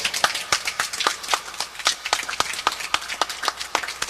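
Audience applause at a talk by Supreme Minister John Muhammad in Atlanta, Georgia: dense, steady clapping from many hands, loud and close, running throughout without any voices.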